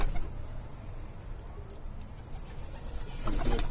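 Pigeons coo softly around a coop, a low steady murmur with light patter and rustling that swells slightly toward the end.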